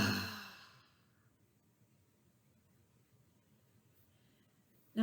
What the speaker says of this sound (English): Now exhale really hard through the mouth, making a deep guttural sound.